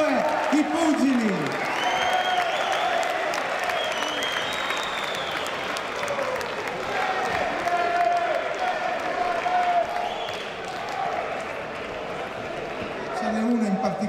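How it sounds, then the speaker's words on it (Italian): Sustained applause from a boxing crowd for both fighters, Michele Orlando and Jorge Ortiz, filling the arena continuously with cheering mixed in, while an announcer's voice speaks over it. "grandissimo applauso ad ambedue i pugili."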